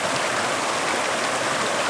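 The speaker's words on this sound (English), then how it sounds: "There's a little side stream." A small side stream flowing through an autumn forest near a waterfall, giving a steady, close rushing and bubbling of water with no pauses.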